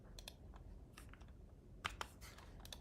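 Computer keyboard typing during a live stream, quiet scattered key clicks and a few sharper taps in an irregular rhythm, close by over low background noise.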